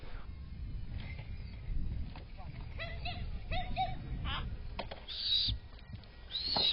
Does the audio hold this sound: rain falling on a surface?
no